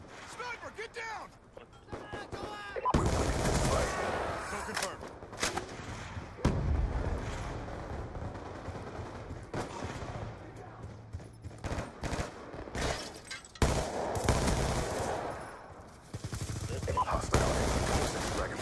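Gunfire in the video game Black Ops 2, bursts of rapid shots and booming blasts in an online match, loud and recurring throughout, mixed with a player talking over it.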